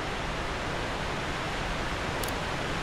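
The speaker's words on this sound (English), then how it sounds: "Pretty little waterfall area." Steady waterfall in a quiet scenic area of the game Dark Souls 2, a continuous broadband rush of falling water that holds at an even level throughout, with no voices over it.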